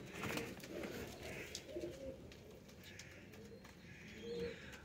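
Young pigeon chicks from fancy breeding pairs make soft, repeated cheeping and cooing calls close by. The calls run steadily over a quiet background with no talking.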